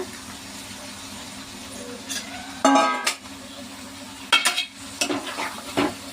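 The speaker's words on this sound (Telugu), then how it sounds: "ఇప్పుడు దీనిలో ఈ తలకాయ కూర వేస్తున్నాను." Chopped goat head meat hits a hot oiled pan, a brief sizzle followed by scraping stirs and metallic clinks of a spoon against the pan, close and moderately loud with short pauses between strokes.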